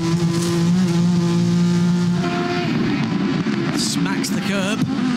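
A Ford GT race car engine roars from onboard at the Nurburgring, a loud sustained drone that shifts pitch as it revs up and down. A commentator talks over it.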